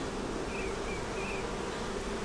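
Honey bees hum continuously on a hive frame, a dense, steady buzz with a few individual bees droning slightly louder as they pass close by, and no voices.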